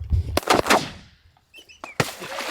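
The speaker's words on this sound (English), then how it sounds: "Shoot him in the face." Several shotgun shots fired during an opening-day duck and goose hunt in Alberta, Canada: sharp cracks in quick succession, the first ones close together, then a pause, ducks calling, and another loud shot near the end.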